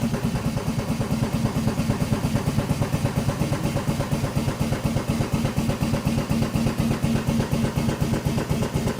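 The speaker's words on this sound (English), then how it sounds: "You can hear the pneumatic hydraulic pump running, which is powering our lift function." Pneumatic hydraulic pump on an explosion-proof IBC lifter running steadily, a fast, even mechanical pulsing with a chugging beat, close and constant throughout with no talk.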